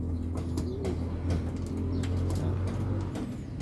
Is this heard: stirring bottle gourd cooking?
no